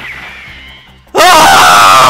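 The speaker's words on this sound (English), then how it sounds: "I apologize for any deafness incurred by my scream just now" Loud, sudden scream from a character in the visual novel game Fureraba ~Friend to Lover~, bursting in after a quieter stretch and holding at full volume to the end.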